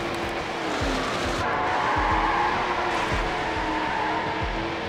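Car drifting in Need for Speed: Hot Pursuit 2, tires squealing in a sustained screech over a loud engine roar, with repeated low thumps recurring roughly every second.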